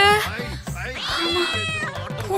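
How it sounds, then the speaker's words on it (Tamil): A cat meows insistently and close by in a series of drawn-out cries, with voices talking over and between them. "பூனை பூனை கத்துனதுதான் எனக்கு குழந்தை கத்துன மாதிரி கேட்டுச்சோ?"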